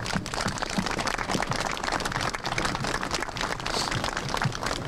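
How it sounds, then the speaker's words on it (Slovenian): Steady crowd applause for children at a charity walk, dense continuous clapping at even volume throughout, with no talk over it. "Jaz mislim, da si zaslužite en velik aplavz"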